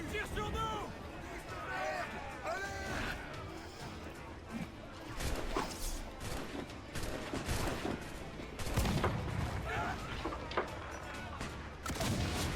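Ship cannons boom in a naval battle in Assassin's Creed Black Flag, with repeated volleys and crackling blasts over a noisy game mix while a voice talks throughout.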